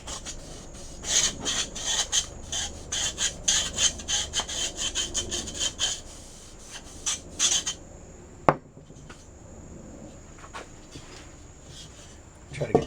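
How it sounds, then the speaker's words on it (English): A scrap of Brillo pad scrubs the sunroof track of a 1965 VW Beetle, fast rasping strokes in bursts that stop partway through, followed by quieter scattered scraping and a single sharp knock. "I got an old little piece of Brillo here. Whatever works, right? Just kind of scrubbing that crap out of there."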